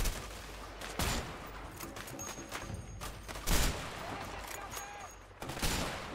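Sniper rifle fire in the video game A Way Out, three loud, sharp cracks spaced a couple of seconds apart, each with a brief echoing tail, amid scattered distant gunfire and muffled voices.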